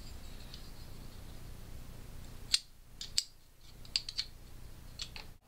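Protech TR-4MA knife being taken apart, a few sharp small metallic clicks and snaps spaced over a few seconds against quiet room noise.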